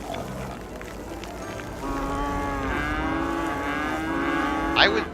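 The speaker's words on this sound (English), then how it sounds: "I would look much closer at all of these farms if the cows were not constantly mooing." Cows moo on farms in the city-building game Cities Skylines, one long drawn-out bovine call rising over a steady background bed, with a brief sharper sound at the end.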